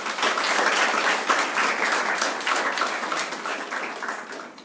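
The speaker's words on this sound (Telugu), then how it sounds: "అందరం చప్పట్లు కొడదాము" An audience at a church thanksgiving service applauds, a dense, close burst of many hands clapping that holds steady and then slowly fades, with no voices over it.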